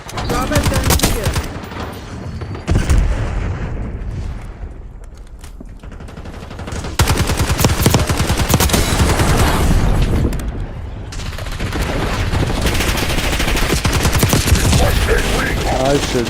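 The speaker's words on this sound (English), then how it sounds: "This Model 9 is such a beast gun, guys." Model 9 gun firing in a shooter video game, sustained bursts of rapid automatic fire with brief pauses, loud and close, mixed with game effects and some talk.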